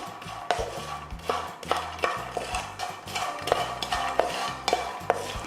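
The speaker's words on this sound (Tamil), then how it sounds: "இந்த சூடோடு இருக்கும்போதே கொஞ்சமாக நெய் சேர்த்து அதை நல்லா கலந்து விட்டுருங்க" Roasted makhana tossed and stirred with ghee and salt in a pan, a steady rhythm of scraping and clattering strokes, close and moderately loud over a low background, no speech.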